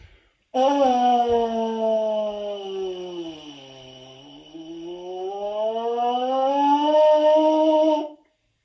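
A baritone horn plays a lip slur that starts high, glides smoothly down to a low bottom and rises back up, one continuous sustained tone, close and solo.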